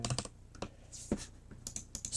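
Quick, irregular clacking keystrokes on a 75% computer keyboard, close and fairly quiet, with short bursts and pauses and no speech.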